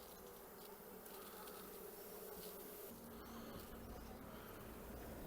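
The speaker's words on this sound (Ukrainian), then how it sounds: "повно бджоли" Dense, steady buzzing of many bees in a hive fills the whole stretch, a close continuous hum with no voices.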